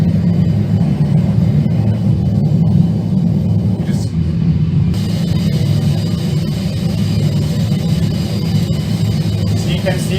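A Boeing 737-800 descends on approach to the runway with gear and flaps extended, its steady, loud rumble and broadband cabin roar filling the whole stretch while a voice talks over it.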